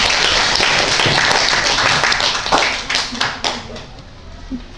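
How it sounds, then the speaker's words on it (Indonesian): A class claps hands together in a classroom, a dense burst of many close, loud claps that thins out into scattered individual claps toward the end, with voices mixed in. "Oke, tepuk tangan dulu."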